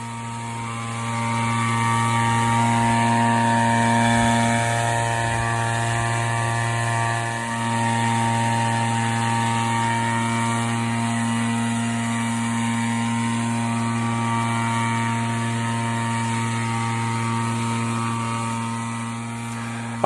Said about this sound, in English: Here's a 30-year-old blower being reused.